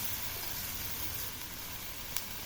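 Chopped bottle gourd sizzles steadily in a hot frying pan as it is stirred, a constant close hiss with a faint clink near the end and no voices.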